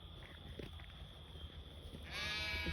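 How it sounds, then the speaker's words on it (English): Roadside flock of sheep on a farm, with a single near bleat arriving late and holding to the end above a low constant rumble. "These are some sheep."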